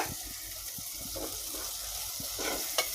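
Vegetables frying in oil in a pan, a steady soft sizzle with light stirring scrapes and small crackles, moderately quiet with no voices.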